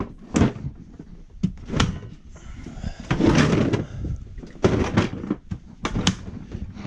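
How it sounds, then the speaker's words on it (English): Plastic construction storage units on a landscape and hardscape construction trailer being clicked and latched together, a run of sharp knocks, thuds and latch snaps at close range with brief rattling between them. "So you're able to lock all these together"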